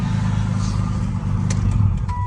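A loud, supercharged Nissan Maxima engine running rich idles roughly nearby, a steady, throaty rumble with a slight uneven lope, running on without any talking.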